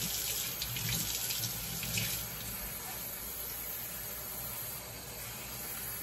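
Water runs steadily from a tap onto hair being soaked during a wash-day routine, a continuous close splashing hiss with no voices.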